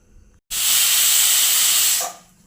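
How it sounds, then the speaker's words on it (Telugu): Pressure cooker cooking toor dal releasing its first whistle, a sudden loud steady steam hiss lasting about a second and a half before cutting off sharply, alone in a quiet kitchen. "ఒక విజిల్ వచ్చింది"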